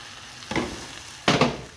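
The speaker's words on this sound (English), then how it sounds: "I'm going to add my last touch to it, which is a bit of boiling water" Boiling water is poured into a pot of cooked Jamaican-style pot roast pork, giving two short hissing, sizzling bursts over a steady low kitchen background.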